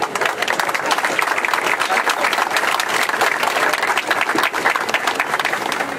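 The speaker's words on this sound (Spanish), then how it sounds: "Un aplauso, por favor." Audience at a civic ceremony inaugurating a memorial at a flag monument, giving a dense, sustained round of applause that stays loud and even throughout.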